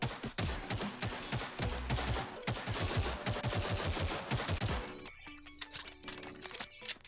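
An M10 submachine gun in the Bonelab VR game fires in rapid bursts, sharp close gunshots in quick succession with a short pause, then a few more scattered shots and clicks.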